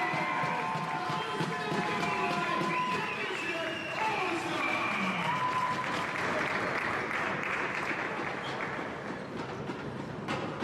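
Crowd applause for a basketball all-star at a college men's championship bronze medal game: a sustained, loud wash of clapping and cheering filling the arena, with an announcer's voice over it.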